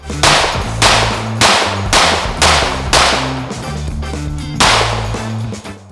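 Gunshots from a MAC 9DS Comp, a factory-compensated 9mm 2011-style pistol, fired at a range: about seven sharp, loud, evenly spaced reports with ringing between them and no talking.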